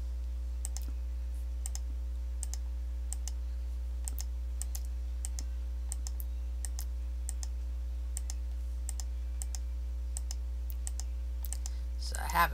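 Computer mouse button clicked repeatedly at a slow, even pace, each click a faint, crisp tick over a constant low electrical hum, with no voices.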